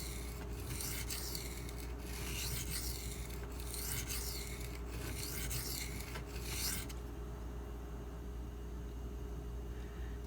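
A Spyderco Lil Native knife is drawn over large sharpening stones in steady, close, rhythmic rasping strokes that stop partway through, leaving a low hum of room noise.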